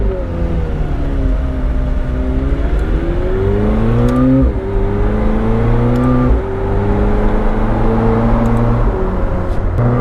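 A McLaren 765LT engine roars loudly from inside the cabin on the Autobahn, pitch rising through the gears with brief dips at each shift, driving hard at speed.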